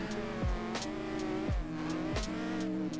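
A race car engine in the driving game Assetto Corsa, revving hard through repeated gear changes, with the pitch climbing then dropping at each shift about once a second, loud and close with no talk.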